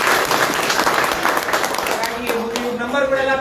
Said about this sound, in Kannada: ಎಲ್ರು ಸಂಚಾಲಕರಿಗೆ ಒಂದು ದೊಡ್ಡ ಚಪ್ಪಾಳೆ ನೋಡಿ